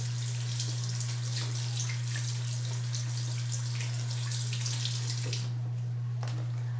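Water from a shower runs steadily onto feet, rinsing off a foot-cleaning product, a constant close hiss and splash with a steady low hum underneath that eases off near the end.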